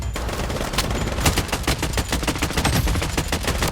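Rapid automatic gunfire in the shooter video game BloodStrike, dense bursts of sharp shots crackling continuously, loud and close, with no voices over it.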